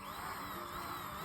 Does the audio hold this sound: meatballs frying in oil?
no